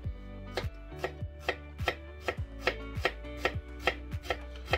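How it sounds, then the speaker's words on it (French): A shallot being chopped with a small knife on a board, a steady series of crisp, evenly spaced taps, close and clear with no talking. "Première chose, déjà on va hacher notre échalote, hein."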